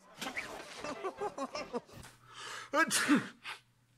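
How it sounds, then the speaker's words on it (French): A single sharp sneeze bursts out after a few short vocal sounds, heard up close in a quiet room. "en parlant d'éternuement"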